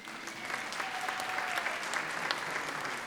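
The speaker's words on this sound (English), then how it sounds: "I thought I was going to hear a round of applause" A steady round of applause from a crowd at a graduation ceremony in Pretoria, many hands clapping continuously and fairly evenly throughout, with no voices standing out.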